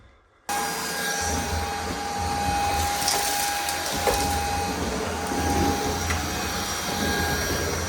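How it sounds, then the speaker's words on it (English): Shark vacuum cleaner running on air suction only, its beater brush off, cleaning around a heat register opening. A loud steady motor whine with an airy rush switches on abruptly after a brief quiet moment and then runs continuously. "this is a nice little vacuum. I don't even get the beater on and just doing the air suction"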